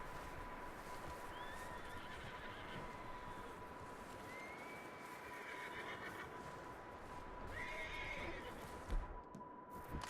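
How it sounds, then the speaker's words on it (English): A horse whinnies several times in Red Dead Redemption 2, the calls rising over a steady outdoor ambience with faint hoofbeats as it runs off, moderately distant and without talk. "A horse running off, that's interesting."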